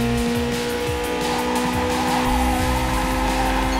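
Race car in the Ridge Racer Driftopia video game, a loud steady engine whine with tire squeal and skidding across the whole stretch, no talk over it.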